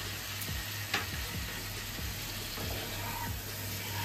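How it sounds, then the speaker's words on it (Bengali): Potato and pumpkin sautéing with spices in a pan for Bengali aloo kumror chokka, a steady close sizzle broken by a few soft clinks of stirring. "মশলার সাথে কষিয়ে নিচ্ছি।"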